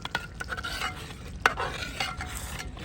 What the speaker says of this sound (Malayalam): അപ്പോൾ ഇനി നമുക്കിതാ നല്ല പാങ്ങി മിക്സായി കൊടുക്കാം കേട്ടോ